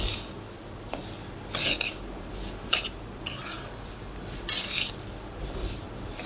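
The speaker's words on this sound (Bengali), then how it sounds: "চিনিটা দিয়েও আমি অনেকক্ষণ নাড়বো এটাকে।" Semolina and sugar stirred in a pan, with a spoon giving uneven scraping, rubbing strokes against the metal. Close and moderately quiet, with brief louder scrapes and no talk.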